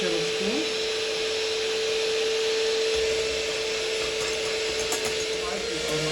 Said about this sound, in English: Let's start to whisk the egg white first. Start whisking, gradually add some sugar,